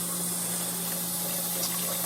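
Water runs steadily from a tap into a cooking pot for chicken noodle soup, a continuous, even rushing hiss with a faint low hum underneath and no talking.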